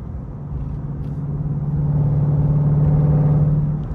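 A catless Dodge Durango RT's engine and exhaust drone while driving, a close, steady rumble that swells in loudness and holds a deep tone as the revs build, heard alone without talk.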